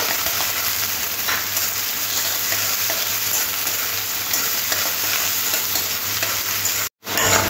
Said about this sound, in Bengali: পেঁয়াজটা একটু গোল্ডেন কালার করে একটু ভাজতে হবে